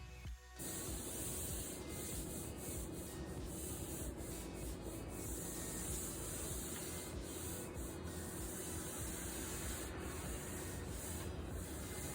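Steady, continuous sanding on a dried-out wooden table top, a loud close-up rasping rub with a constant high hiss that runs the whole time with no talk over it.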